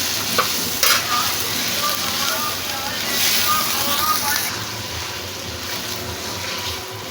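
Garlic-ginger paste and chicken fry and get stirred in a hot pan, giving a steady close sizzle with scraping stir strokes, continuous throughout.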